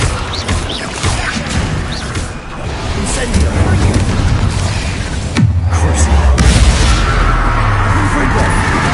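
Booming spell blasts and crashing explosions from the Hogwarts Legacy video game, fire and blasting spells cast in quick succession, loud and dense throughout with a heavy low rumble, mixed under spoken spell incantations.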